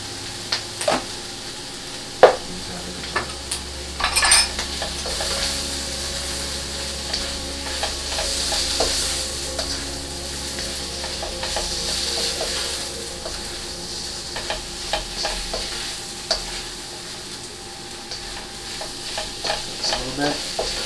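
Shrimp stir-fried in an oiled pan with panca chili for spicy Peruvian chifa pineapple fried rice: a continuous close sizzle broken by scraping utensil strokes and a few sharp clacks.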